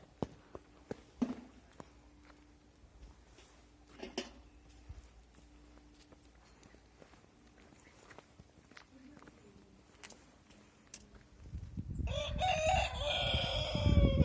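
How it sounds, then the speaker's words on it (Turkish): Faint chicken clucks and footsteps on a quiet farm, then a loud, close rooster crow bursts in near the end. "burası çiftlik gibi bir yer. Tavuklar falan var"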